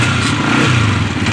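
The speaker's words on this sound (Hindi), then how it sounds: "अभी स्टार्ट हो जाएगा बाइक" Motorcycle engine kick-started and turning over into a steady, loud idle with a throbbing low rumble and clatter, close by and continuous with no talking.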